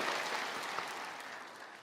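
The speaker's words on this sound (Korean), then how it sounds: "우리 하나님께 영광의 박수를 드리겠습니다" Church congregation claps together during a Wednesday worship service, a soft, steady wash of applause heard from a distance that fades slightly over about two seconds.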